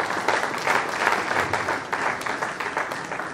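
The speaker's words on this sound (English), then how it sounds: "A round of applause for my dear." A lecture audience applauds steadily for a few seconds, dense clapping with no one speaking over it.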